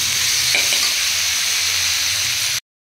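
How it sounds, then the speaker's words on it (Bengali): Fish curry simmers in a pan on the stove with rice cooking nearby, giving a steady, close sizzling hiss that holds level for over two seconds and then stops abruptly. "এখন যতক্ষণ আমার ভাতটা আর মাছের ঝালটা হচ্ছে"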